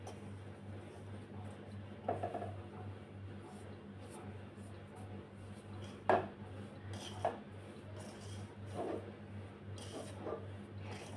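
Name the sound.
stirring dough and oil with a spoon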